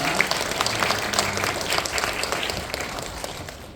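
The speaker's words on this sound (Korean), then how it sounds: "우리 하나님께 다시 한번 뜨겁게 박수하겠습니다" Warm, sustained applause from a church congregation during a worship service, honouring the choir and praise team, with a steady dense wash of clapping and a faint voice beneath.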